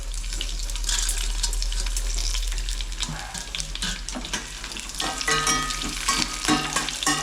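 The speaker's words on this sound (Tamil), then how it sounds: "நல்லா சூடாயிடுச்சு நம்ம வந்து கடுகு இருக்குங்க கடுகு கடலப்பருப்பு வரமிளகாய் எல்லாம் சேர்த்துக்கலாம்" Mustard seeds, chana dal and dried red chillies crackle and sizzle in hot oil, with scattered pops and a steady frying hiss, close up and without talking.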